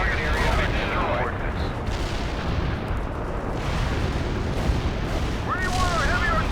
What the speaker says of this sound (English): Artillery barrage hit for full effect.